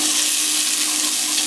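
Onions frying in a pan give off a loud, steady, close-up sizzle with no voices over it.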